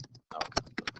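Rapid keystrokes on a computer keyboard during a demo, a close, irregular burst of clicks after a short pause, fairly loud and alone.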